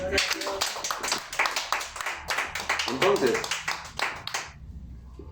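Congregation at a Spanish-language church service clapping for God, dense rhythmic claps overlapping a preacher's voice for about four and a half seconds, then fading out.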